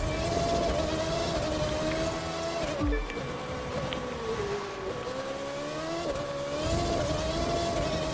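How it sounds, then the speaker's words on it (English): An Alpha Grand Prix race car in The Crew 2 drives through Detroit with a high-pitched engine whine at steady high revs, briefly dropping on a gear change or braking before climbing again, loud and close with no voices. "this Alpha Grand Prix race car might be very chosen to be racing around in Detroit"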